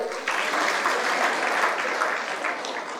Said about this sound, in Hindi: ताली बजाइए जरा